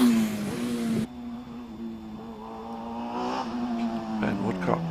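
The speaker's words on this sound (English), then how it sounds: "Ben Woodcock out there in the Westfield Megabusa, that, as I mentioned before, Suzuki Hayabusa" A Westfield Megabusa fitted with a Suzuki Hayabusa motorcycle engine climbs a hill course, its high steady engine note revving up through gears after a sharp loud burst at the start, with a commentator talking over it.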